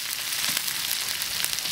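Celery and pork stir-frying in a wok, a steady, close, dense sizzle with no talking.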